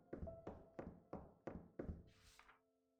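Drawers in the horror video game Heartworm are pulled open, five evenly spaced hollow wooden thunks about a third of a second apart, clear and close with no talking, ending in a brief airy rustle.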